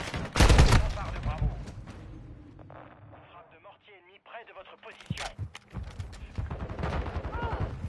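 Video game gunfire opens with loud bursts and returns in rapid shots later, while someone talks throughout.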